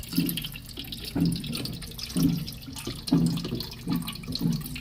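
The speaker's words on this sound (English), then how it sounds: "I think we poured a little bit too much water." Water poured while making a Halloween waffle cake, heard as splashing gushes that come in repeated bursts about once a second, fairly close, with no talking.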